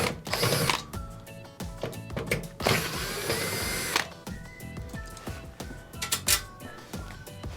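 Power screwdriver backing out screws from the terminal block of an Ikea oven under repair, a close ratcheting whir in several bursts with clicks and metallic handling sounds between.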